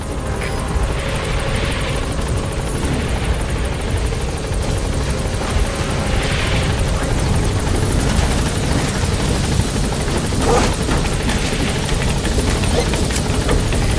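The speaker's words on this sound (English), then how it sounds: "the chopper's touching down" A military helicopter in a Metal Gear video game touches down, its rotor roaring loud and continuous throughout with a dense, steady beat and no voices.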